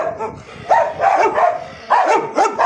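Big dogs barking close by in a few loud bursts of deep barks with short pauses between them.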